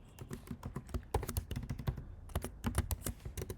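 Rapid keystrokes on a computer keyboard while Python loop code is entered, a dense, uneven run of clicks that continues through the whole stretch with no talking.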